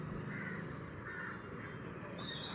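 Crow cawing outdoors, a few harsh, medium-distance calls spaced out over a steady background hum.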